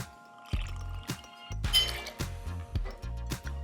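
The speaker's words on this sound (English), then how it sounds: "Half ounce of fresh lemon juice." Fresh lemon juice is poured into a cocktail at a steakhouse bar, giving a brief liquid splash with light glass clinks over background music with a thumping beat.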